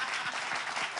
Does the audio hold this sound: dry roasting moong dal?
no